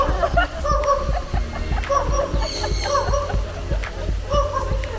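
Several dog barks and yips repeat in quick succession, fairly close, over a steady low background hum.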